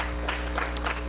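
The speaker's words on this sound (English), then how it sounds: "let's clap on to God one more time" Church congregation clapping together after a prayer, a steady wash of applause with a low hum underneath, fairly even and not very loud.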